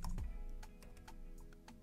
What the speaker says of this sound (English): So by just typing Node into your terminal,